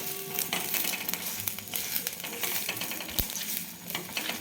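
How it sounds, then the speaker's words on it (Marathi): Onion, coconut and green chili roast in a pan for a masala paste, giving a close, steady sizzle broken by scraping stirs and light metallic clinks, with no talking. "कांदा आणि खोबरा आणि हिरवी मिरची हे पण आपण टाकून थोडंसं एक मिनिटभर फक्त भाजून घेणार आहे"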